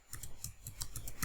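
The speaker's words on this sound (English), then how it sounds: "press the keyboard up," Keys clack on a computer keyboard in a quick, irregular run of about eight crisp, close taps over a second, with no voices.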